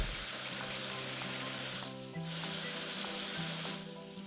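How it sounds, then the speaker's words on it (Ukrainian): Water sprays steadily over a cartoon vehicle being washed after foaming and brushing, a continuous hissing rush with a musical background beneath it. "І помиємо водою"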